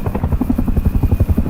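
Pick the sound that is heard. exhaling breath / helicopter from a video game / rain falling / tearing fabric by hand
helicopter from a video game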